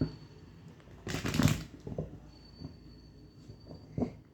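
Tarot cards are riffled in a quick burst of papery flutter, followed by a few soft taps and slides of cards, close and quiet with no talk.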